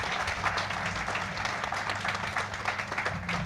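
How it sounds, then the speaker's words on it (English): An audience at a library groundbreaking applauds with steady clapping throughout, heard from within the crowd. "Round of applause for that, please."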